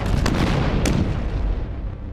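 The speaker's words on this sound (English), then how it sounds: "Zeppelin L3 dropped 7 high-explosive bombs" High-explosive bombs from a Zeppelin L3 air raid on a town at night, heard as a sustained deep rumbling roar with sharp bursts near the start, loud and unbroken by speech.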